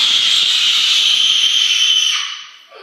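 One person screams loudly and continuously in a screaming contest, a long held shrill cry that fades out near the end.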